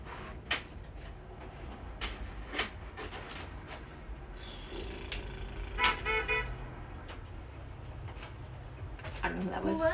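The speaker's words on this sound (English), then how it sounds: "They were honking at us." A car horn toots from the street outside, short and fairly distant, over steady background noise of an indoor room.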